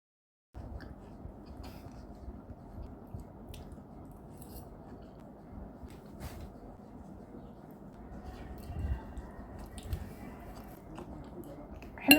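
Chewing on a dish of potatoes, olives, bread and vegetables, with soft, steady mouth sounds at close range for most of the stretch, growing a little louder toward the end.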